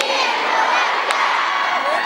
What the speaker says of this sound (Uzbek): haqiqiy qarsak endi bo'lar